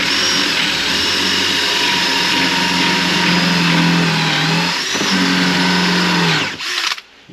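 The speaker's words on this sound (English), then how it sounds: "we'll go with this cone cutter, and what we'll do is we'll drill out from the centre" A cone cutter bores out wood from the centre of a sink or drain opening with a loud, steady, high-pitched whine that holds evenly for several seconds, then winds down and stops near the end.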